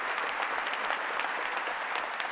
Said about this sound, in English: I'd love to stop and give them a huge thanks and round of applause.